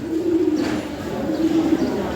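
Black checker pigeons coo in a loud, close, rolling murmur, two sustained bursts of low throaty cooing with a short dip between them.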